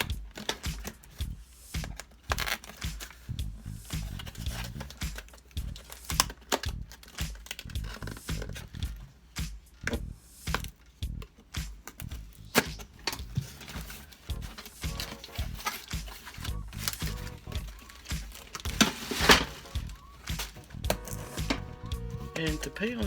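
A SALT stainless steel pan from Bed Bath & Beyond is unboxed, with steady rustling, crinkling and tapping of packaging being opened at close range, busy and continuous throughout.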